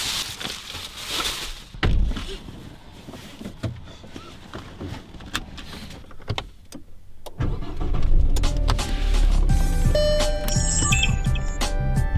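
A car on National Highway 331 near Heihe, Heilongjiang, gets a few dull thumps as its trunk is packed, then the engine starts and runs in a steady, loud drive with low rumble.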